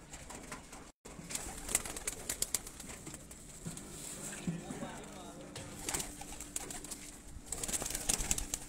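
Breeder pigeons coo on a rooftop, their soft calls repeating amid a busy, noisy outdoor background with occasional wing flutters and faint voices nearby.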